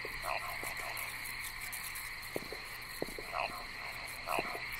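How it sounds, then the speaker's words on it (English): Video game frogs croak repeatedly in short, rhythmic calls over a steady layer of high insect-like trilling, with no voices present. "Excuse me, frog. What is that noise?"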